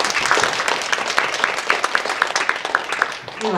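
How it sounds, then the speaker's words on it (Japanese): An audience at a harassment-eradication project event in a Senshu University venue breaks into applause, a dense patter of many hands clapping at moderate loudness, with a voice speaking faintly underneath. "会場を提供してくださった専修大学の長谷川先生に拍手をお願いします"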